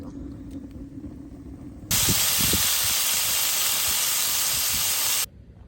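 A BG burner roaring to life with a loud, steady broadband hiss that starts abruptly, holds evenly for about three seconds, then cuts off sharply, with a fainter low hum and crackle before and after.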